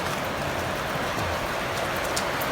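Dense, steady patter of rain falling, loud and continuous with no pauses.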